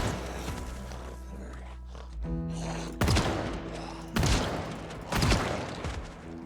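Gunfire in a zombie survival video game: several heavy, booming shots ring out a second or so apart over a rumbling game ambience, loud and close.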